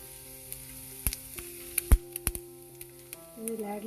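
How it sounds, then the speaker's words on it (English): Urad dal, mustard seeds and cumin seeds sizzle and crackle in hot oil in a kadai, with sharp scattered pops over a low frying hiss that thickens toward the end. "Now heat a kadai, add little oil to this. Now we'll add urad dal, mustard seeds and cumin seeds."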